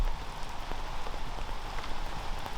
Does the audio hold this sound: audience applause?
no